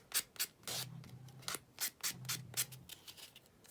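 Chipboard tiles sanded down by hand, a series of short rasping rubbing strokes in an uneven rhythm, close and fairly quiet, with no voices.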